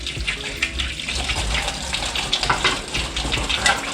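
Eggs are washed by hand in water, with continuous close sloshing and running-water splashes that swell and dip for several seconds, and no voices.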